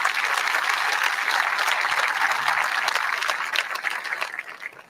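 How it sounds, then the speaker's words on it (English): Audience applause at a hospital ribbon cutting for Norton West Louisville Hospital, a dense, even round of clapping from a crowd that holds steady and then tapers slightly toward the end. "Please join me in a round of applause for both of those groups of people"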